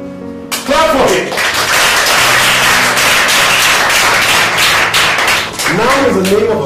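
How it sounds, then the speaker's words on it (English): A classroom of pupils claps for a boy who answered correctly, a burst of loud, busy clapping that swells in after a pause and fades near the end as a voice returns. "Clap for him."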